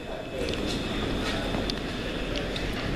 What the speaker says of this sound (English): we just pulled into the Nuneaton station